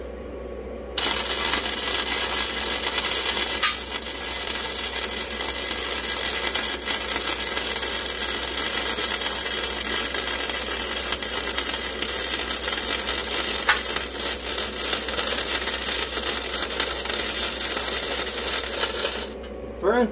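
MIG welding with a Vulcan Migmax 215 welder that is burning through the workpiece: a loud, steady crackling buzz runs close up for about eighteen seconds, then cuts off abruptly.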